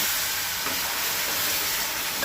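Hot water goes into roasted semolina and ghee in a pan for Goan sheera, a loud continuous hissing sizzle held close and steady from start to end.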